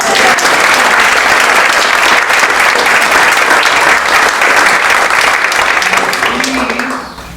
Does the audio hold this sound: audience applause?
yes